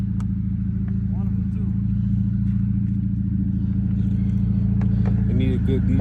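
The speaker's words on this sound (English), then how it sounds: "It just probably got a hole in the muffler." A car idles with a deep, rough, steady exhaust drone, likely from a hole in the muffler, running continuously while a person talks over it.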